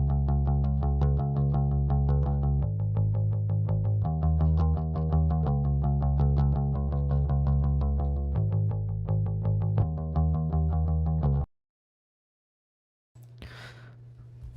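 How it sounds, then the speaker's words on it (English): A stock Logic bass guitar preset from an indie pop/rock track plays a steady, loud line of repeated plucked notes with shifting pitches, then cuts to silence before a brief breathy swell. "We have the bass, and again, it's just a preset here from Logic."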